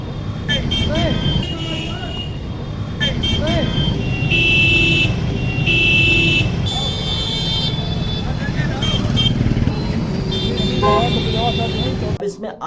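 Busy street traffic with loud, repeated vehicle horn blasts cutting through a steady roar of passing cars and engines, horns sounding in bursts throughout.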